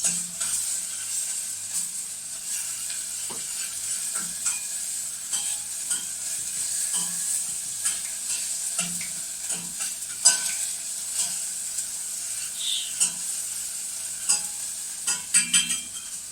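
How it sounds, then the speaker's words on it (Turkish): Tarhana soup being stirred in a pot, a steady soft hiss and simmer with scattered light scrapes and clinks from a spoon, close by and fairly quiet, growing more frequent toward the end. "Şimdi, şimdi karıştıracağım."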